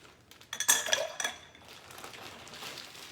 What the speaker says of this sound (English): So I'm going to add some ice to that, and I'm going to chill it down by stirring it.